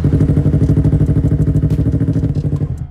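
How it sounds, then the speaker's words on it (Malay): Standard stock exhaust of a motorcycle idling before ECU tuning, a steady close low burbling rumble with even rapid pulses and a slight bubbling, running alone throughout. "So bunyi idling tu normal je."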